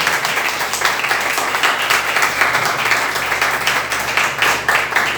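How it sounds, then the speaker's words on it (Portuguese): A Pentecostal church congregation in Fortaleza applauds in praise of Jesus during a worship service, steady dense clapping from many hands sustained throughout at a loud, even level. "As palmas louvam Jesus"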